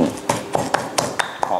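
A stone mortar and pestle pounding red curry paste mixed with shrimp paste, sharp rhythmic thuds about every quarter second, close and loud over a steady background noise.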